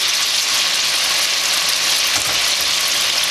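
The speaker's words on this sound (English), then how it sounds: "we're going to go ahead and put our onions back in and saute these for about 5 minutes" Onions sautéing in melted butter, giving off a loud, steady sizzle and crackle that holds evenly throughout with no voices.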